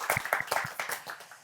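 A small class of senior students at a Catholic academy claps together to open the session, a brief burst of distinct, slightly uneven hand claps close by.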